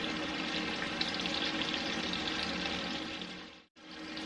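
Onions sautéing in a pan for a slow-cooker sausage red beans and rice, a steady broadband sizzle that holds evenly, then cuts out for a brief moment near the end before resuming.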